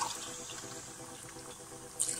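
Water runs steadily from a tap or is poured into a pan of risotto, a continuous close splashing that grows briefly louder near the end.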